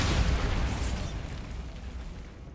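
Bombarda spell explosion in Hogwarts Legacy, a heavy low boom that bursts at once and then rumbles down into a fading tail, loud and close.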